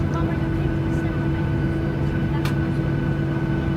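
Jet engines of an EasyJet Airbus A320 drone steadily at an airport, a loud continuous tonal whine and rumble, heard from inside another aircraft with no distinct talk.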